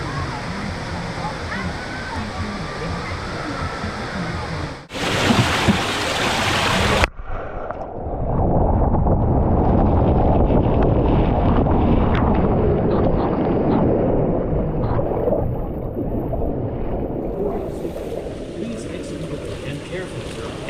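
Rushing water and loud splashing fill the ride down the Vanish Point water slide at Water Country USA, a steady roaring wash broken by a brief louder burst of spray early on.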